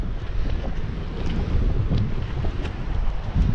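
Strong wind buffeting a sailboat moored off Ibiza, a steady loud rumbling roar against the microphone with faint water sounds and no speech.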